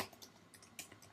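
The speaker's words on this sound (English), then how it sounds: "I am not typing correct at all." Quiet, irregular keystrokes on a computer keyboard while text is being typed into Photoshop, with soft scattered clicks across a brief stretch and no talking.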